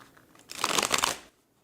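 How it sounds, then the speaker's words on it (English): A deck of tarot cards is shuffled once, a brief, close riffle of rapid papery flutters lasting under a second between quiet pauses. "I don't know if I've ever shown myself actually shuffling."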